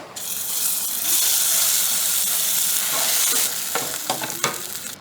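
Loud, steady sizzling of coconut paste hitting a hot pan for mor kuzhambu, with scraping and stirring clicks toward the end. No voices.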